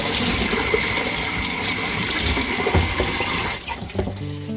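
Hot water runs steadily in a loud, continuous rush while washing a Seeburg 3W1 for restoration, then cuts off near the end, leaving a brief clatter and quieter background.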